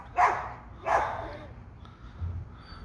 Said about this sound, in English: this cat's stuck and there's two dogs going nuts trying to get it